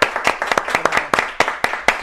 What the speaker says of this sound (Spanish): damos la bienvenida con un fuerte aplauso a nuestro invitado de hoy